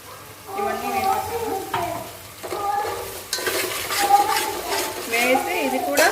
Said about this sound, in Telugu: ఆయిల్ సెపరేట్ అయ్యేంత వరకు ఫ్రై చేసుకోవాలి